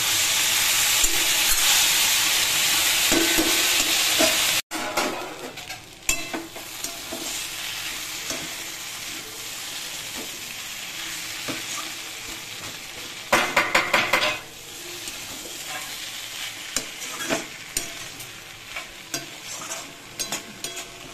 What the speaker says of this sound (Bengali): এটা হাফ মজে গেলে পাতাটা আর মুড়োটা দিয়ে দেবো